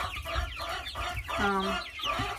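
Red Ranger chickens cluck close by in repeated short bursts, a growing six-week-old hen among younger chicks, with a few brief speech-like sounds mixed in.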